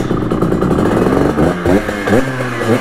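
A Simson moped engine revs loudly and close up, a buzzy two-stroke drone that climbs and falls through several rising throttle blips with some rattling clatter.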